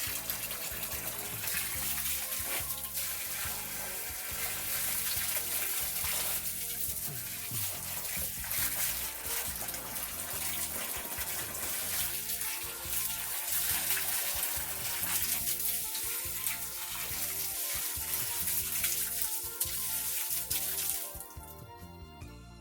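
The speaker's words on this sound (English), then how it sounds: "So take the rows off, give it a good old water, like that." Water gushes steadily from a hose or can over rows of crops on an allotment in late August, a continuous soft splashing with no voices.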